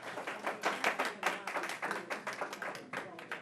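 An audience at a city commission meeting applauds in quick, dense clapping that carries on steadily throughout, moderately loud and close.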